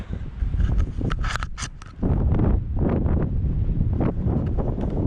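Wind gusting against a loosely secured side panel that flaps and pops, a continuous broad rushing roar with bursts of rattling, loud and close throughout.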